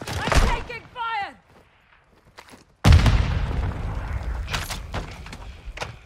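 Incoming gunfire in Call of Duty DMZ hits as a sudden loud burst of shots and crackling impacts after a brief quiet, with scattered further reports trailing off; a voice is heard early on.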